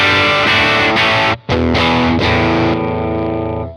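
Divided by 13 EDT 13/29 guitar amp running in Class AB mode, loud driven guitar chords struck in a few sustained hits with one short break, close and full, the last chord ringing out.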